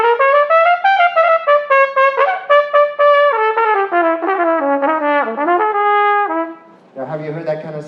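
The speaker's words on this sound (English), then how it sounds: "I played trumpet for the opening of some art exhibit there" Solo trumpet plays a corny Jewish-style melody for the opening of an art exhibit at a Jewish museum, with bright, close, continuous phrases, bending notes near the end and a rougher, buzzier final burst.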